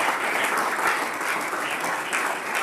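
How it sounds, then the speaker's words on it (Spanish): A church congregation claps loudly during a service, a full and steady wash of applause from many people that holds at an even level from start to finish. "Denle fuerte ese aplauso al Señor Jesucristo."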